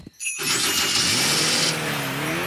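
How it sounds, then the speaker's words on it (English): A cartoon fairy car's engine struggles to start on a cold day, a loud, steady, strained whirring that kicks in after a brief quiet moment and carries on without letting up. "It sounds like a fairy car on a cold day"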